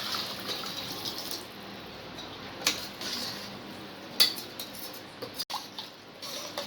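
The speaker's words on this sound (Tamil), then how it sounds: "இப்போ தண்ணி ஊற்றிக்கலாம்" Water pours steadily into a pot of rice for mushroom biryani with a soft, continuous rushing hiss, joined by a few faint clinks and knocks near the end.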